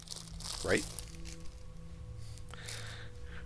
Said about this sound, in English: That means I have time to eat my Star Crunch.